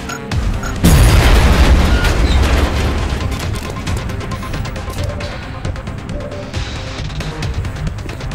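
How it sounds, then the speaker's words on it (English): A grenade detonates in a video game with a sudden, loud, deep boom that rumbles and fades over several seconds, followed by scattered gunfire and debris. "Grenade out."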